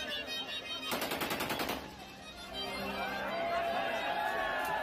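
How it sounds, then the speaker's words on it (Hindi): Machine gun fired in celebration at an outdoor Pathan wedding in Pakistan, a rapid burst of automatic shots for about a second over crowd chatter, followed by continued talk and background noise. "मशीन गन ही है ये।"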